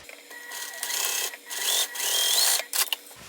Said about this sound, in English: Let's go ahead and just see how we sew one